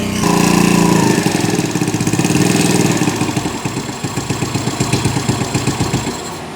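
A small thrift-store scooter engine idles after its idle has been lowered, running with a rough, fast, pulsing putter close by that loosens into a slower, lumpier beat as it settles, with no talk.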